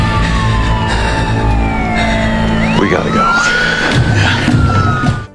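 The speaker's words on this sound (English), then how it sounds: "Hearing the approaching sirens," Police sirens wail loudly in a Prison Break scene, several rising and falling tones overlapping steadily throughout with a dense rumble beneath, as a voice briefly speaks near the end.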